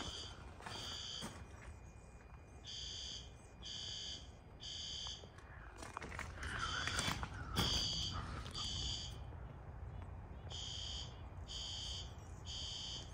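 Fire alarm sounding during a monthly building test, a distant horn pattern of repeated short electronic beeps in groups of three with pauses between, over faint room noise and some handling rustle.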